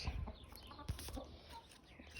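Soft chicken clucking at close range, a few short low calls scattered over a quiet background, with a brief thump near the start.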